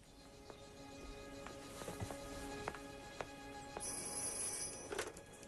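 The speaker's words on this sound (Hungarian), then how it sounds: "Don Toto, a felesége keresi telefonon." An old-fashioned telephone bell rings in an office setting, repeated trilling rings at moderate volume over a quiet room, with a brief sharper tone near the end.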